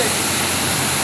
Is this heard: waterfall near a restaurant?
yes